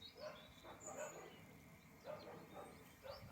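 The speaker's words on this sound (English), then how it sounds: "can hear a dog barking" A dog barks far away outdoors, several faint, distant barks in an uneven rhythm under quiet ambient noise.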